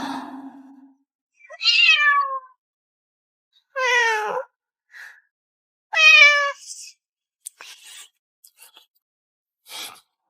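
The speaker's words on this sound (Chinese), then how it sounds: "哪来的一只小猫，胆子真大，连凌云峰都敢进。" A kitten meows three times, high and plaintive, with short gaps between calls, followed by a few faint rustles in an otherwise quiet room.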